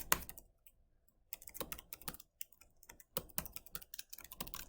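Computer keyboard typing, close and clear, with irregular clusters of key clicks and taps separated by short pauses.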